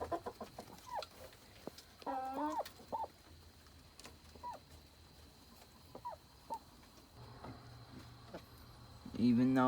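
Chickens sitting on a coop floor on a hot night give soft, scattered clucks and short warbling calls, near but not loud, over a faint steady hum and a brief noisy rustle at the end.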